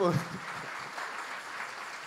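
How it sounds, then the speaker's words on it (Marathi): Applause from a crowd at a women's festival event, a dense hiss of many hands clapping at a moderate distance, steady throughout after a brief voice at the start. "जोरदार टाळ्या वाजवायला हरकत नाही आपलीच"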